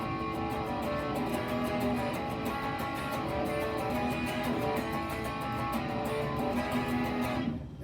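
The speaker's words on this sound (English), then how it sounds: "And that's just using traditional chords." Guitar strummed in traditional full chords rather than power chords, a steady, moderately quiet rhythmic strum with ringing tones that continues evenly for several seconds before cutting off.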